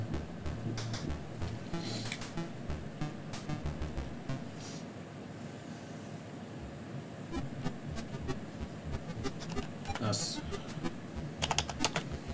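Keys clattering on a computer keyboard attached to a THEC64 Mini console, irregular clusters of soft, close taps spread across the clip over a quiet background, with a little talk mixed in.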